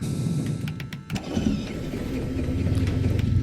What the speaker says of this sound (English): And we're going to start her up.